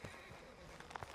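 Horse hooves clip-clopping in Red Dead Redemption II, a few quick soft hoof strikes close by over a quiet outdoor ambience, with a brief snort.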